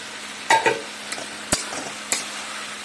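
Green chillies and tomatoes being stirred into a frying okra and shrimp masala, with a steady low sizzle broken by several sharp scraping stir strokes, close and clear with no talking.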